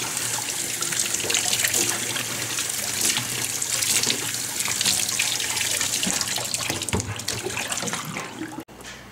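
Hot tap water runs continuously over a container of liquid malt extract during home beer brewing, a steady close hissing splash that carries on without a break.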